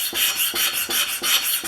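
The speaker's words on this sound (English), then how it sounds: "One of my scrapers is a great tool for taking that rust off." A hand scraper rasps rust off the steel sole of a Stanley No. 5 1/2 jack plane in steady, close strokes, five gritty scrapes in a regular back-and-forth rhythm with no talking.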